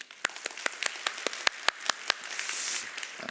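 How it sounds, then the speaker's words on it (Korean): A church congregation claps to congratulate a newly married couple, starting with distinct, evenly spaced claps that blend into a softer, denser patter of applause. "우리 축하의 박수 한번."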